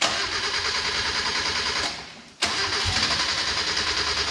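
Suzuki Stockman LJ81 engine, freshly restored and carbureted, cranking and catching in a shed, a steady loud running roar that dips briefly near the middle before picking back up.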